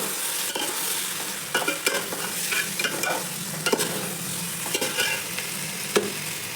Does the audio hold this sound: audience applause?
no